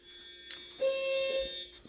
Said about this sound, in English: They're gonna come and turn off the alarm.